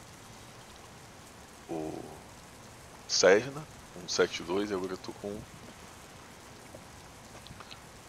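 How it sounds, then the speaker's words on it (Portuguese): Simulated rain in the Prepar3D v4.4 flight simulator, flying the A2A P28A Cherokee 180, makes a steady soft hiss beneath someone talking in Portuguese. "aparentemente funcionando, com os efeitos de chuva também, tudo operacional"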